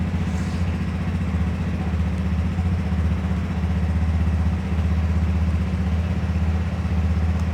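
A Genuine Hooligan 170i scooter engine idles steadily, a low continuous throbbing rumble with a faint clatter, close by and unbroken throughout.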